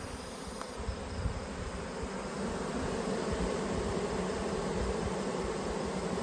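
Honey bees fanning at a hive entrance in late summer, a steady, faint, continuous buzzing drone with no voices.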